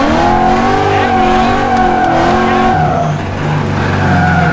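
A car doing donuts roars loudly and continuously, its engine revving hard while the tires squeal and scrub in long, wavering tones, close and dominant throughout with no voices.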